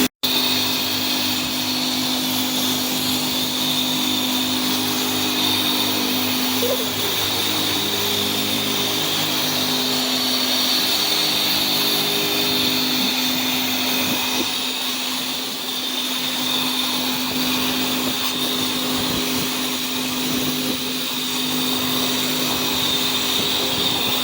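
A pressure washer sprays a 1989 Kawasaki Vulcan 750 motorcycle, a loud, constant hissing roar with a motor hum underneath that runs unbroken from start to finish.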